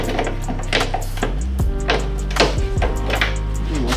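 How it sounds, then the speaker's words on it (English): Work on a 1994 Toyota Celica GT subframe in a garage, with steady mechanical whirring and sharp metallic knocks and taps as bolts are broken loose, fairly close and continuous across the moment. "I'm gonna break these bolts free on all sides."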